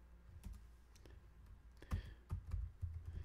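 Close computer keyboard typing in short irregular bursts of clicks, some keystrokes louder and thumpier than others, with no talking.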